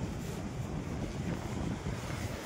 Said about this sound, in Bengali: সাই সাই করে হাওয়া হচ্ছে খুব জোরসে